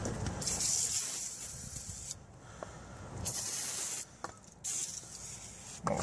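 Bursts of PB Blaster penetrating oil spray hiss in several short blasts separated by brief pauses, close and fairly loud, with no voices, aimed at a nut on a 1996-2002 Dodge Ram front shock.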